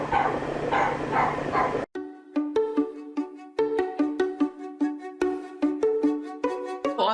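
Dogs in shelter kennels bark in an irregular run of sharp, loud yips and woofs, close by with a slight echo, after a brief burst of louder noise at the start.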